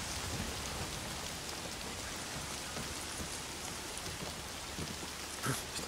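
Rain falls steadily in the Days Gone video game as a dense, even hiss of drops on surfaces, with a faint low rumble beneath it and one brief louder patch near the end. Nobody speaks.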